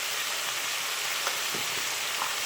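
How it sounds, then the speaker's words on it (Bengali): Potatoes fry in a pan at home with a continuous, even hiss of sizzling oil. A few faint stirring knocks come through, moderately quiet and close, and nobody speaks. "আলু ভাজতে আর কতক্ষণ বলো"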